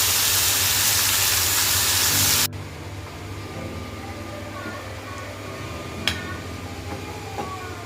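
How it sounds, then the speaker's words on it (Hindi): Something rubbed with turmeric and salt is fried in a little oil, giving a loud, dense sizzling hiss that cuts off abruptly after about two seconds into a much quieter background. "थोड़े से ऑयल में ही फ्राई करूँगी, ज़्यादा नहीं।"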